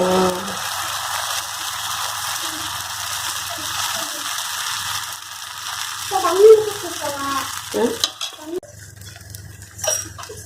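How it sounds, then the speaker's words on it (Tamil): Herbal dosa batter, green and made with mixed lentils, hits a hot pan and sizzles at close range with a soft steady hiss, while utensils clink and scrape briefly near the end. "இப்போ தோசை மூலிகை தோசை ஊற்றிடலாங்க"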